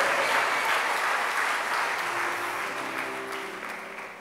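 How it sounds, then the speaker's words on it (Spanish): A church congregation claps in sustained applause that gradually fades, with a soft musical tone lingering underneath. "Denle un aplauso a este muchacho."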